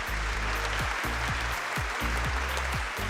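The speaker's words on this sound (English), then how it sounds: "can we have a big round of applause?" Applause on a televised Indian talent show, a broad steady wash of many hands clapping over a strong low musical bass beat, loud and continuous throughout.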